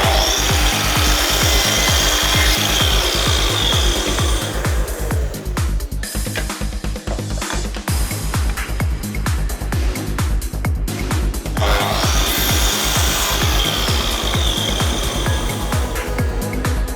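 A Festool Kapex KS 60 sliding compound mitre saw running continuously and cutting through wood, a loud steady motor whine with a grinding blade buzz that dips briefly in the middle before rising again, close and without talk.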